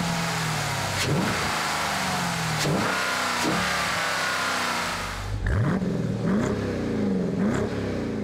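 A Dodge Durango SRT's 6.4-litre, 392-cubic-inch V8 revs repeatedly, each loud rise in pitch dropping back before the next, heard close and continuous over about eight seconds.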